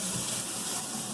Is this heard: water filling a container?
yes